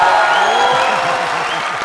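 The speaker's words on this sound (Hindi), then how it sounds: "हाँ तालियां मारो।" Brief burst of audience applause, a dense wash of clapping that fades slightly over two seconds, with some murmuring voices underneath.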